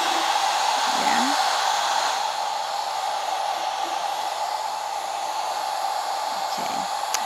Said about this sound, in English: move it around, your hair dryer, move it around